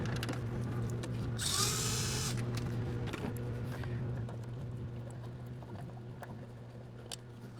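A power tool whirs in a short, bright burst while loosening 12mm battery tray bolts on a Toyota Camry, RAV4 or Corolla, followed by quieter clinks and handling noises over a steady low hum in a garage setting.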